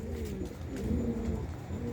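Pet doves or pigeons coo softly and continuously at close range, low rolling calls overlapping in a brief indoor moment with no talking.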